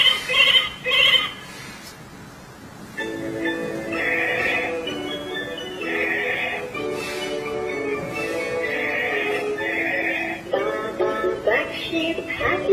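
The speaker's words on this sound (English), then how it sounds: "Sheep." A Global Drone YS2604A toy phone's electronic voice says "sheep," then a tinny recorded sheep bleats in repeated wavering calls, loud and close.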